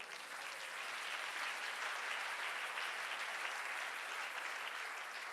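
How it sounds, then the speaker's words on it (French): Congregation at a church service applauds to acclaim the Lord, a steady wash of clapping hands that holds even and fairly distant throughout, with no break. "Est-ce que tu peux acclamer le Seigneur?"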